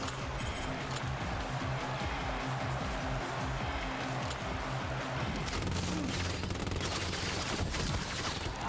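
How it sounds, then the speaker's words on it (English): Video game gunfire from Showgunners, with dense, continuous volleys of shots and impacts layered over a game soundtrack, loud and sustained without pause. "fresh defenders ready to take down the contestants. Couldn't dodge the bullets."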